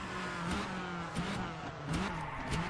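A car drives in the video game Valentino Rossi: The Game, its engine revving up and down through gear changes in a continuous whining roar, loud and close with no voices.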